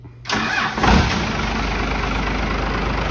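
A vehicle engine in a repair shop cranks and catches within a second, then settles into a steady, close idle during a smoke and charging test, with no one talking.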